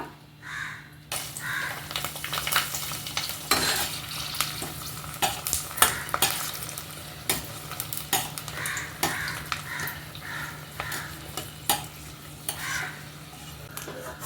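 Curd-soaked kondattam chillies fry in a pan, giving a continuous sizzle broken by frequent clinks and scrapes from stirring, close and moderately loud, with no talking.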